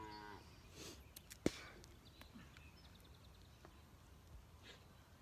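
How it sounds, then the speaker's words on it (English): A group of calves out on pasture, with a faint low moo at the start, followed by quiet scattered thumps, rustles and a sharp click, all distant and low in level. "there's actually a pretty good group of calves following."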